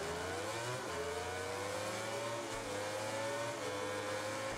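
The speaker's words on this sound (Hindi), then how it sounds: "ओ भाई गाड़ी की आवाज देखो इसकी यार, कितनी गंदी है" A motorbike engine in the MotoGP 19 racing game revs hard and continuously, pitch climbing in long rising sweeps with brief drops between gears, loud and steady with no talking.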